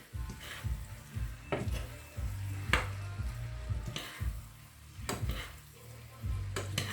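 Food is stirred in a pan for a tagliatelle dish with mushrooms, making repeated scraping strokes and clinks of a utensil against the metal over a light sizzle, in an uneven rhythm close by.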